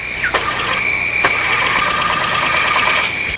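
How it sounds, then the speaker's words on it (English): A small motor powering the world's smallest dirigible starts with a couple of sharp catches, then settles into a steady, fairly loud whining hum, heard high above the ground. "Well, I start the motor."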